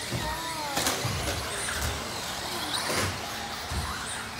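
Traxxas Slash 4x4 RC car running at full throttle, a steady high electric motor whine with wheel and chassis clatter, several brief surges and thumps from bumps or jumps, continuous throughout with no talking.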